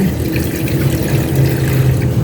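A little water poured into a cooking pot while preparing a dish with vinegar and pepper, giving a steady, continuous close-up trickle and splash that runs through the whole moment with no talking.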